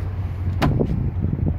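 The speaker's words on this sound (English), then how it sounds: "First thing we'll do, we'll go inside the driver's door." The driver's door of a 2010 Mercedes Sprinter van opens with one sharp latch click, followed by a few softer knocks and thuds over a steady low hum.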